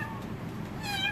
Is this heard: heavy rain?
no